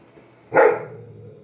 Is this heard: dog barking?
yes